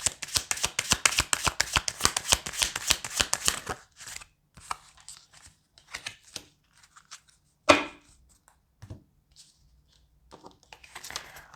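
Rapid riffling of tarot cards for about four seconds, a dense flurry of crisp flicks, followed by scattered soft taps and a single sharper slap.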